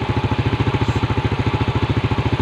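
A Yamaha Vega R motorcycle engine that starts hard and lacks power runs steadily during air-screw tuning, making a loud, close, rhythmic thumping idle with no talk over it.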